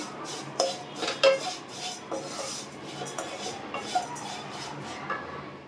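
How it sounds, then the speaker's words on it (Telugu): Vermicelli being fried in a pan on low heat for semiya kesari, with soft scraping and stirring and light metallic clinks of a spoon against the pan, irregular and close, fairly quiet. "ఇప్పుడు సేమియా పలకలు వేసుకుని వేయించుకుందాము."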